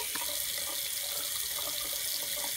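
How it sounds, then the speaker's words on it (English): Water runs steadily from a tap into a small plastic receptacle for a portable urinal, a continuous close hiss of filling and draining with no speech. "Then fill the receptacle to the top with water and let it drain out."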